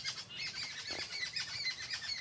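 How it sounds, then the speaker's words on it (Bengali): Birds chirp and squawk outdoors in a rural setting, with quick repeated calls close by over a soft background hum. "কত সুন্দর সুন্দর পাখিদের ডাক।"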